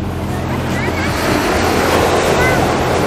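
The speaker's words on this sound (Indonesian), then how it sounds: "Iya, ombaknya nggak parah banget." Ocean waves wash onto the shore at Crystal Bay beach on Nusa Penida, a loud, continuous surf roar with wind buffeting the microphone.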